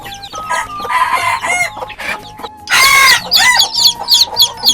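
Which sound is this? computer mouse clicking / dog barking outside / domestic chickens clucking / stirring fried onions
domestic chickens clucking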